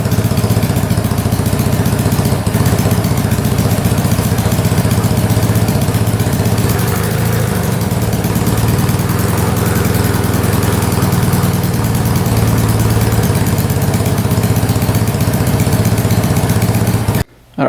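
A 1967 Honda Dream motorcycle engine, run again after more than fifty years idle, revs loudly and steadily up close with a buzzing, vibrating drone that holds through most of the stretch before cutting off abruptly.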